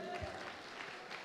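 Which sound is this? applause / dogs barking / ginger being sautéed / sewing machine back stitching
applause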